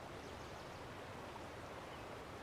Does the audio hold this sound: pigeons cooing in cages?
no